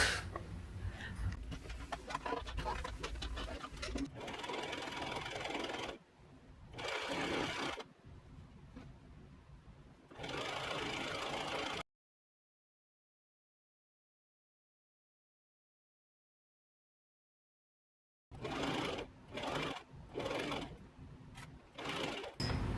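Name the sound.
sewing machine gathering fabric tier of dress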